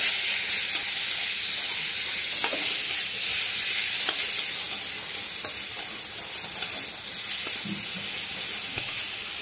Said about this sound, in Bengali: আদা রসুনটাকে ভালো করে বেটে এই ভেজে নিতে হবে